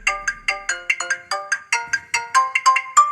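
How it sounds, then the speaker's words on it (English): A custom phone ringtone plays alone as a quick, bright melodic sequence of plucked-sounding notes in a steady rhythm, clear and close with no talking. "What about custom ringtone?"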